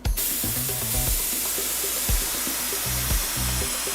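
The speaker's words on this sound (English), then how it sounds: "Start spraying it" A steady, loud hiss of a paint spray gun running continuously, with a low mechanical hum and short tonal pulses underneath.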